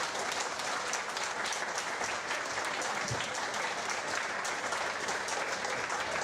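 Steady audience applause for Aurelio Pantanali at an award ceremony for the Aiello 2016 sundial competition, a dense, even wash of clapping throughout with no talk.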